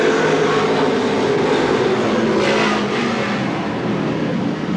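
A stock race car engine screams at high revs on the oval at Seekonk Speedway, a loud, steady roar that stays dense and continuous throughout, with no voices heard.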